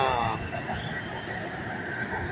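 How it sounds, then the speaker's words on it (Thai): A Bangkok BTS Skytrain passes over a busy intersection on Phaya Thai Road, a steady rail rumble blended into continuous traffic and street noise, with voices nearby. "รถไฟฟ้า รถไฟฟ้าด้วย"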